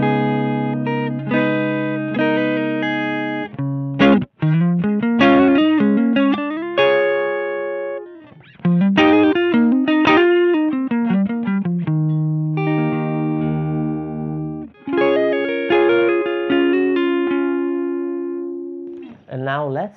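Electric guitar played through the clean first channel of a Victory V4 The Countess amp, a run of chords and single-note lines ringing out clearly with brief pauses between phrases.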